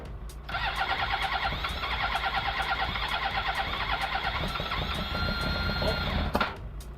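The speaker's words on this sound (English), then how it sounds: "the bike is now running at least in a rough idle" A Suzuki GSX-R 750 SRAD motorcycle engine with fuel-injection problems running at a rough idle, giving a steady, close mechanical chatter and ticking with a faint rhythmic pulse that lasts the whole stretch before a brief knock near the end.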